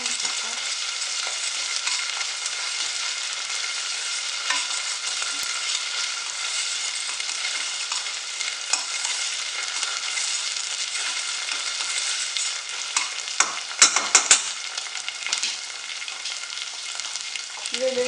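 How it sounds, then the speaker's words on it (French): Turkish lentil soup in a pot being stirred, with a steady hiss throughout and occasional scrapes and light knocks of the spoon growing busier near the end. "Je vais mélanger le tout."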